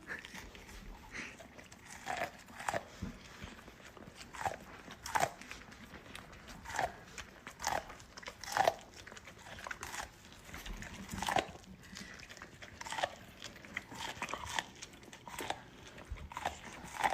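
A golden retriever bites and chews corn on the cob, with repeated crunchy bites and gnawing at an irregular rhythm, close and fairly faint.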